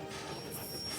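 Steady rumble of a cartoon train from My Little Pony: Friendship is Magic, with a high metallic wheel squeal ringing over it, continuous and fairly close.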